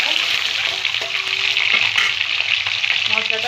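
Whole spices frying in hot oil while being stirred in a pan, a loud continuous close sizzle with a few soft scrapes and clinks from the spoon.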